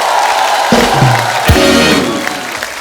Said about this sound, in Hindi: एक बार जोरदार तालियां हो जाए आपके फैंस यहाँ पे।